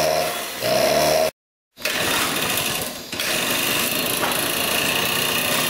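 A restored rare motorcycle engine runs nearby, a loud, steady buzzing drone with a brief cutout near the start, then continuous rough idling with no voices.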